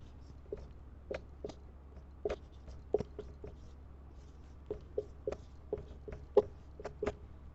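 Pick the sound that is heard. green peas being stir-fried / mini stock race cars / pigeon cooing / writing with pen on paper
writing with pen on paper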